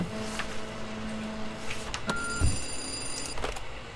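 A telephone rings in the video game Nuts, a steady electronic bell tone repeating in short bursts over a low game ambience, with no speech.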